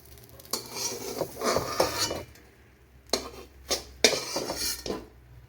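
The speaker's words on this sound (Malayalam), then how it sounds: "ഇതിനെ ഇനി പാത്രത്തിൽ നിന്ന് ഒന്ന് കോരി മാറ്റാം" A cooked egg is scooped and scraped out of a pan, with several distinct metallic clinks and scrapes of a utensil against the pan, some light sizzle underneath, close and fairly quiet.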